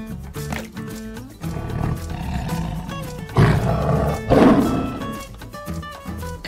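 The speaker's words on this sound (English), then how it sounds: "Lion." A lion's roar among a run of zoo animal sounds, loud and close, with two heavy bursts swelling over a busy, layered background that fades out at the end.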